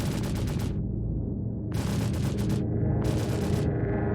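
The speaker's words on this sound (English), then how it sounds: "This is what the gunfire looks like" Rapid bursts of ship weapon gunfire from the Gatac Syulen in Star Citizen, three loud sustained salvos of fast repeating shots separated by short gaps, over a constant low engine hum.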